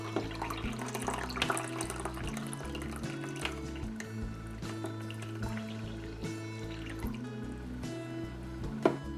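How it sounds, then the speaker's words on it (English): Hot water pours steadily into a bath, a continuous rushing fill with small drips and splashes over a low, constant hum, lasting the whole stretch with no voices. "I fill up the bath with hot water."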